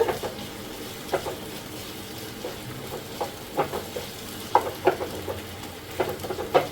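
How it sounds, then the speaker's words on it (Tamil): Tomatoes sautéing in a pan for pepper prawn gravy give a low steady sizzle, with a spatula scraping and stirring in scattered soft clinks and knocks throughout. "நல்லா தக்காளி சாஃப்டா வதங்குற வரைக்கும் நல்லா வதக்கிக்கோங்க."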